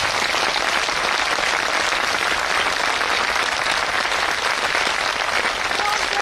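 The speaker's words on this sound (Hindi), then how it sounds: "सम्राट अशोक की स्मृति में उनके लिए एक जोरदार ताली बजा दें" A large gathering breaks into dense, sustained applause at a Buddhist event honoring Emperor Ashoka, the clapping loud and even throughout with no break.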